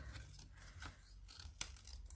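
Scissors cutting paper leaves freehand for a Matisse-style collage, several short crisp snips and rustles spaced irregularly, one sharper snip near the end, quiet and close with no talking.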